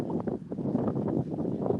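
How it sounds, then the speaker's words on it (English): Wind buffeting a microphone at a boat dock, a continuous low rumbling roar with gusty fluctuations throughout, close and fairly loud. "Sorry if it's too windy, but I'll try to stay out of the wind a little bit."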